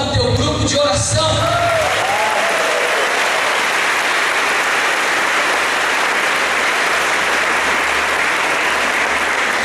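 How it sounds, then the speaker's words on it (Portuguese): A crowd at a Catholic Charismatic Renewal formation meeting applauds its prayer group, with loud, dense, steady clapping filling the room for most of the span after a brief spoken line at the start. "Portanto, aplauda o teu grupo de oração."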